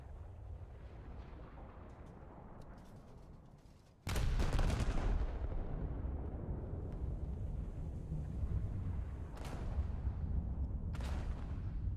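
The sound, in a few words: torpedo hitting enemy ship in a battleship video game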